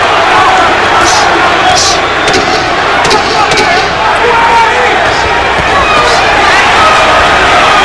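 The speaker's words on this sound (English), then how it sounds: "Crowd chanting, "Buddy, Buddy, Buddy."" Boxing arena crowd at a 1991 bout chanting for Buddy McGirt, a loud, dense wall of massed voices that roars continuously without letup.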